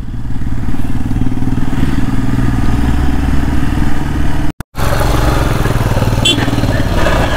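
Two motorcycles ride into Mirik Lake in Darjeeling, their mid-pitched engines running loud, close and steady, broken by a brief cut partway through.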